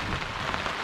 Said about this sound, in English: This is so nice to sit here during a little rainstorm.